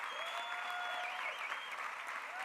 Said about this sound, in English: Let's give another round of applause to all the hard workers.